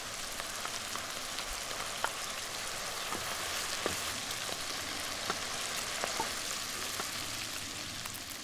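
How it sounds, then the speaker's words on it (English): Steady, fairly quiet sizzling of onion and chicken frying in a pan, with scattered small pops and crackles throughout. "After frying the onion and chicken"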